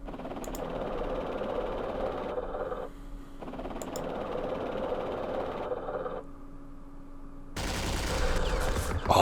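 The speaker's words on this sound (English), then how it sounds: "there's more machine guns back there" Machine guns in the Vietnam war game Campaign Series Vietnam fire in sustained rattling bursts, with a brief lull between them and a harsher burst at the end.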